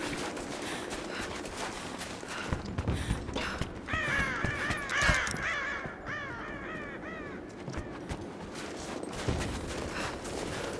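Repeated harsh crow caws from the video game Rise of the Tomb Raider, a flurry of calls over the ambient game soundscape with occasional distant gunshot-like thuds.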